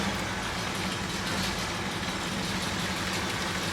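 A 1957 GMC truck engine idles steadily, a low rumbling drone that stays even and moderately close throughout, with no voices over it.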